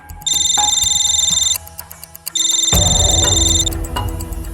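A telephone rings loudly with a call from forensics in a police crime-drama scene, two long electronic ring bursts separated by a short pause, with a low rumble of room noise beneath the second ring.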